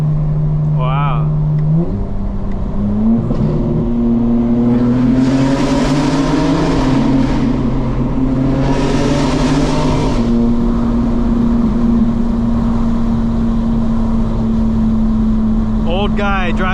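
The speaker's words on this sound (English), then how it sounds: "Old guy driving a satin black GT3 RS." A satin black Porsche GT3 RS driving past: a loud nearby engine note climbs through revs in surging waves with rushing passes, then settles into a steady drone while people talk.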